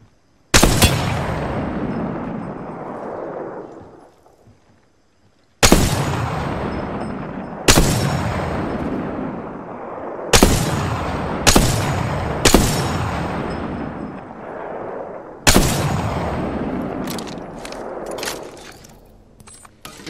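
Gunfire in the video game Apex Legends: about eight sharp, loud shots, some spaced seconds apart and others in quick pairs, each followed by a ringing, decaying tail.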